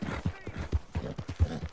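Horse hooves clip-clopping at a steady trot in Red Dead Online, a run of evenly spaced low thuds at moderate level with faint background noise.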